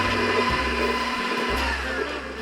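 A steady, loud electric mixer whirs through gingerbread cookie dough, its motor hum holding constant with slight dips in pitch as the beaters work, and no voices are heard.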